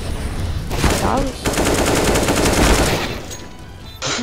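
Rapid bursts of automatic gunfire in CS:GO crackle continuously, loud and close, with a brief pause before a final burst.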